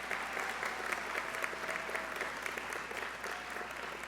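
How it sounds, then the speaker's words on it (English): Steady applause from an audience at an Army memorandum of understanding signing ceremony, with many hands clapping in a dense, even roar that stays level for about four seconds and has no speech over it. "Okay, round of applause."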